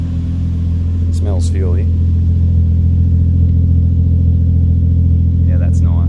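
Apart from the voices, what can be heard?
1JZ engine idling after coil pack change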